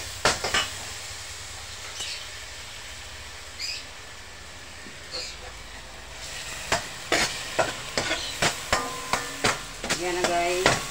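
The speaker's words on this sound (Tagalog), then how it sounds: "So, medyo magba-brown na yung sibuyas at bawang." Onion and garlic sautéing in a pan for pinakbet: a quiet, steady sizzle, then from midway a sharp run of utensil scrapes and taps on the pan, spaced and rhythmic, with no talking.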